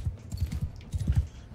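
Hoofbeats of a sumpter horse in Mount & Blade II: Bannerlord, a quick steady clip-clop of soft thuds at close range, with no talking over them.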